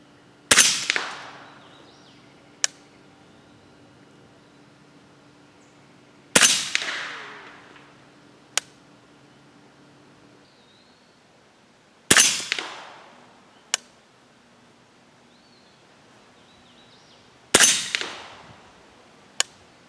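Four loud, sharp rifle shots from a 300 Blackout firing 194-grain Lehigh handloads ring out outdoors at roughly five-second intervals, each crack followed by a decaying echo and a quieter click or brass ping in between.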